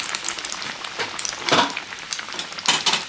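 Mughlai paratha dropped into very hot oil in a home kitchen, giving a crackling sizzle with bursts of louder spitting bubbles, fairly close, with no talk over it.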